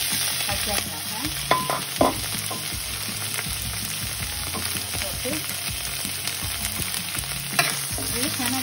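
Curry leaves, red onion and green chilli sizzle steadily in hot oil for an eggplant moju. Scattered stirring scrapes and spoon clinks run through the sizzle, close up and without talk.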